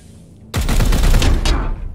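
A sudden burst of rapid video game gunfire from Warhammer 40,000: Chaos Gate - Daemonhunters erupts after a quiet moment, loud and dense, rattling for about a second before easing off.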